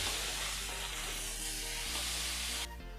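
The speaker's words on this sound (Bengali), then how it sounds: "মিনিট 2-এর জন্য এভাবে মশলার সাথে সবজিকেও আমি ভেজে নেব।" Vegetables with tomato and spices frying in a pan give a steady, loud, close sizzle and hiss that runs unbroken, then drops away sharply near the end.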